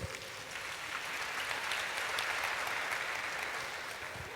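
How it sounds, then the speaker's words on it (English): A seminar audience applauds together, a sustained wash of clapping that swells in the middle and tapers slightly toward the end, with no talk over it. "Clap for yourselves."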